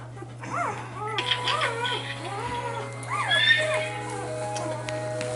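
Young puppies whimper and whine in a run of high, rising and falling cries, close by and fairly loud over a constant low hum.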